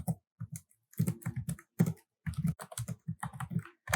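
Java code being typed on a computer keyboard: rapid, irregular clusters of close, crisp keystroke clacks with brief pauses between bursts.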